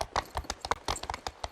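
Hooves clip-clop steadily as a horse is ridden in Equinox Homecoming, a quick even rhythm of distinct, close hoofbeats.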